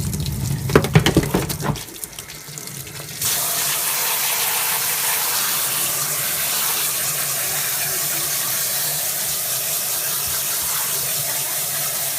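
A Norwex mop is rinsed under a running tap: early splashing and sloshing as the mop is worked, then a steady loud gush of water pouring into the sink.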